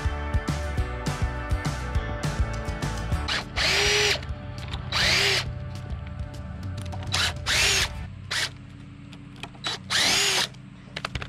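A power drill whines in short bursts as it backs hinge screws out of a board on a farm, close and loud. Four or five separate spins come between clicks, knocks and handling noises.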